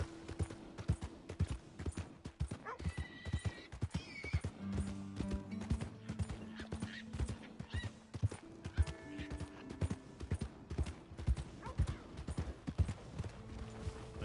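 Horse hooves clip-clop in a steady walking rhythm with occasional whinnies in a PS4 video game, fairly quiet, with scattered sound effects and brief tones around them.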